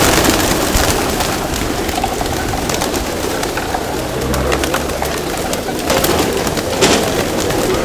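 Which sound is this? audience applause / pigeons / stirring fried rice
pigeons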